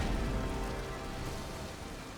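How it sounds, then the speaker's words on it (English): Steady rain pours down in a Mass Effect 2 game scene, a dense, even wash of drops hissing across the whole clip at constant loudness with no voices. "Rain."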